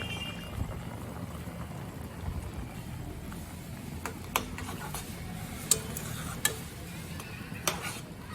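Chopped jute leaves go into a pan of prawns, giving a soft, steady sizzle under a low background hum, dotted with a few light clicks and taps of stirring.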